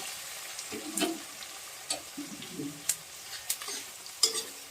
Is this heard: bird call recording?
no